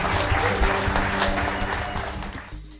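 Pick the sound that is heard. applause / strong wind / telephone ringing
applause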